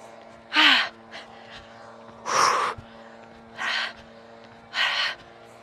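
Heavy breathless gasps and panting from a woman after a final round of intense HIIT fat-burning exercise, four loud bursts of ragged breath spaced about a second and a half apart, close to the microphone.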